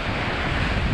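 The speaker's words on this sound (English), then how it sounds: "It's pretty windy." Strong wind buffets the microphone on an Outer Banks beach near Cape Hatteras, a loud continuous low rumble with surf mixed in, no voices.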